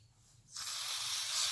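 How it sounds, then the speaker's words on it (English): An aerosol can of brake cleaner starts hissing abruptly and keeps spraying in a steady, loud, close jet onto model car drive shafts. "I'm gonna use a brake cleaner"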